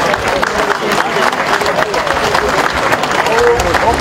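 Audience at a French pétanque championship in Guyana applauding the tournament volunteers, sustained clapping from a crowd with an announcer's voice over it.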